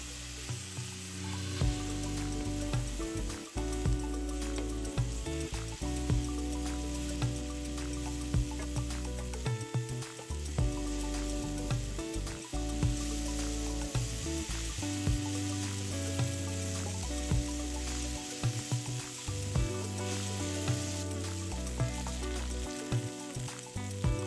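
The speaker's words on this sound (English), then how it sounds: "Fry for around 1 minute until the shiitake mushrooms become soft." Steady, loud sizzling of shiitake mushrooms frying in a pan, with occasional stirring scrapes, continuous throughout.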